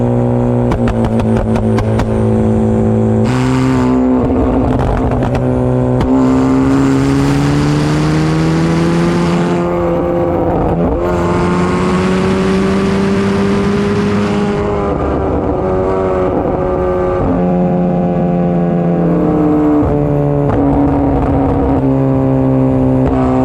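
A Chevy Cruze with a 1.4-litre turbo engine, a B&R burble tune and a side exit exhaust with no catalytic converter revs loudly and steadily up and down for a long stretch, close and unbroken, with no talk.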